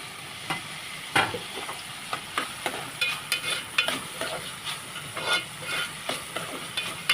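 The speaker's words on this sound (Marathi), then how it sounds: "व्यवस्थित तेलामध्ये परतून घ्यायचं." Cabbage, chana dal, onion and peas fry in oil with a steady sizzle, broken by repeated scraping and clacking as the mixture is stirred in the pan.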